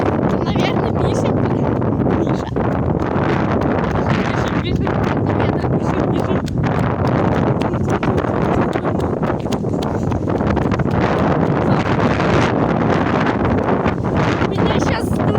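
Strong wind buffets an outdoor microphone during a hide-and-seek game among friends, a loud continuous roar and rumble with trees rustling that masks everything else.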